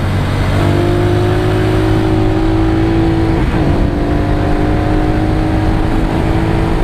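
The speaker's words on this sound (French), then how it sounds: "je claque un rapport pour avoir du frein moteur" Motorcycle engine under load while braking into a corner, a steady loud drone with the pitch falling and briefly dipping midway, heard from onboard with heavy wind rush.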